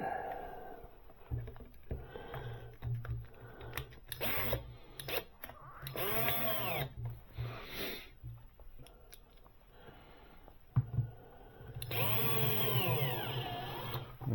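Small screws being driven back into a Research Laboratories Soundmaster loudspeaker cabinet, giving repeated close squeaky, ratcheting turns in short bursts with brief pauses, fairly quiet and with no talking.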